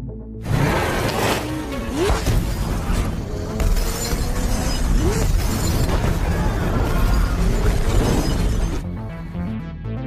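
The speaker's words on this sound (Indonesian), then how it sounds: "Samson terlebih dahulu meledakkan tempat tersebut dengan bom yang sebelumnya sudah ia pasang" A bomb blows up a building in a film scene, a loud sustained roar of explosion and crashing, shattering debris that rolls on for several seconds before cutting abruptly to quieter sound near the end.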